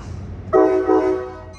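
Amtrak San Joaquin train 714 arriving at Richmond station, California, sounds a loud chord horn blast of about a second, nearby and clear over a low rumbling background.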